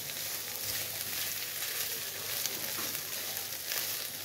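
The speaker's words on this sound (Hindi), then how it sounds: "मिक्स कर लेंगे अच्छी तरह, इसको फ्राई कर लेंगे, भून लेंगे।" Turmeric, red chilli and other spices frying in a pan for an aloo kachori filling, a continuous soft sizzle with faint stirring scrapes, steady and fairly quiet.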